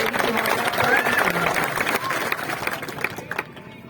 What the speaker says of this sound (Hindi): पर जोरदार तालियों से